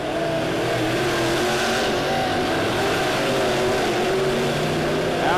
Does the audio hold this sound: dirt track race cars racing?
yes